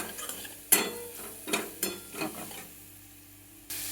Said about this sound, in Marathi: कापून टमाटे पण घालून घेतलेले आहेत तळायला.